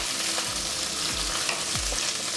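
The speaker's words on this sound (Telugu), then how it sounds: "ఉల్లిపాయలు, పచ్చిమిరపకాయలు, కరివేపాకు ఇవి వేసుకుని మనం లైట్గా ఫ్రై చేసుకుందాం." Onions, green chillies and curry leaves frying lightly in oil for masala idli, a steady close sizzle with a few soft stirring scrapes and no voices.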